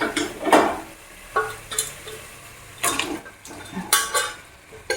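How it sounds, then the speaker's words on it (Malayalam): Cooked beef on the bone, rich with ghee, goes into a simmering pan and a spoon stirs it, giving several sharp scrapes and clinks against the pan at irregular intervals over a soft sizzle. "അതിനുശേഷം നമുക്ക് നമ്മുടെ വേവിച്ച് വെച്ചേക്കണം ബീഫ് ഇടാം"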